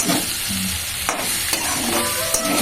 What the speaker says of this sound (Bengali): ভালো করে কষিয়ে নেব সম্পূর্ণ নিরামিষ